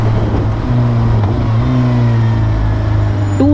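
Suzuki Hayabusa superbike, a bulky 260 kg motorcycle, revving and accelerating with a loud, steady engine drone and rising harmonic pitch, a sharper rev surge near the end.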